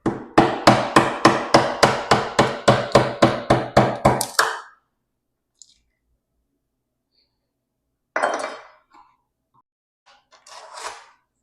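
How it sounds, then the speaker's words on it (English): A hammer strikes a chisel to cut out a piece of wood, about fifteen sharp, evenly spaced blows in quick succession, then silence broken by a few scattered knocks and scraping. "Now just grab a chisel and chisel this piece out right here."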